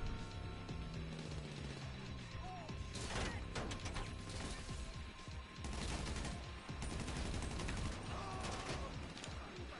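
Grenades explode in a PS4 shooter game, mixed with rapid gunfire and mechanical clatter; a dense, continuous barrage of muffled blasts and shots throughout.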